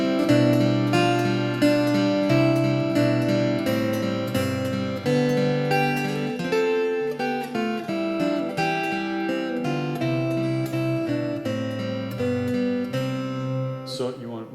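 Solo classical guitar played with finger picks on Dona Nobis Pacem, the inner voices ringing loudly against the melody in a continuous, sustained passage, close and clear with no talking.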